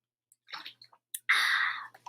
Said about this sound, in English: I'm taking another sip of water